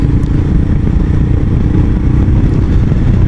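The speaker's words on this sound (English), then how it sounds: "Quite torquey engine, with it being a 411 single." A 2019 Royal Enfield Himalayan with its 411 cc single-cylinder engine runs loud and close, a steady low thrumming drone with a faint mechanical clatter and no speech.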